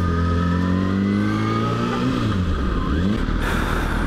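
A Lamborghini engine revs nearby, rising and falling in pitch as it accelerates, loud and close, then fading into rough low rumble.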